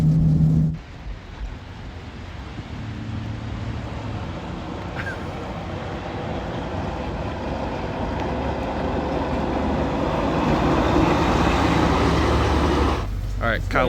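A Smart car converted to run on tracks drives loudly along a wet town road, giving a continuous heavy rumble and churning roar with a hiss of spray that builds gradually, close by and alone.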